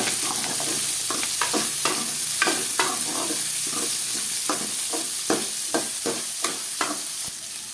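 Garlic frying in a pan, a continuous close sizzle broken by frequent spoon scrapes and taps as it is stirred; no voices.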